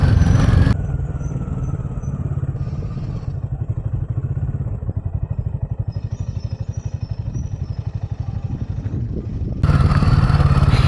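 A Royal Enfield Himalayan motorcycle rolls slowly downhill on a rough off-road track under engine braking, its single-cylinder thump pulsing steadily and loud, with a louder burst of engine and wind noise at the start and end.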